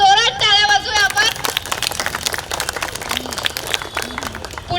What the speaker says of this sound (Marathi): परत एकदा जोरात टाळ्या वाजूया आपण